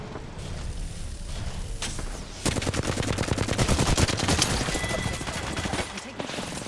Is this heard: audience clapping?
no